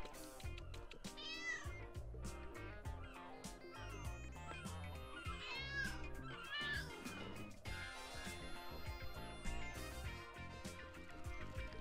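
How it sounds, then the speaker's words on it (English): A cat meows repeatedly in the Lego City Undercover video game on Nintendo Switch, drawn-out rising and falling cries layered over busy game music and effects at steady volume. "kitty, kitty, kitty."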